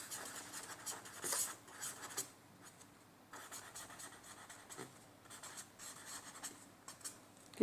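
Numbers written by hand, pen scratching softly and close in short strokes with brief pauses, faint and alone.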